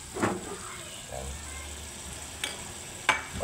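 Spicy pork binagoongan simmers in a pan over a low flame, a steady faint bubbling sizzle with occasional soft pops and clinks.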